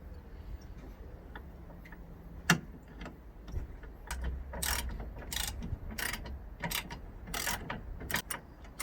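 Screws being threaded and tightened by hand into a Nissan Elgrand E51 radiator, a string of small irregular ratcheting clicks and ticks up close, with quiet pauses between bursts.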